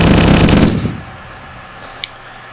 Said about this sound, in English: This also fires tank rounds.